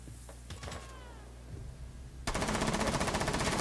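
Rapid Rainbow Six Siege gunfire bursts out loudly partway through, a dense rattling stream of shots after quieter game sounds and a meow-like squeal.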